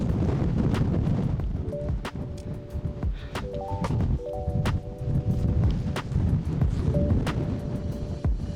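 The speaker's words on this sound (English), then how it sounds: "As you can hear, the wind was a bit stronger at this height." Strong wind roaring and buffeting against a microphone on a mountain near the summit, loud and constant throughout, with short tonal beeps and sharp ticks breaking through.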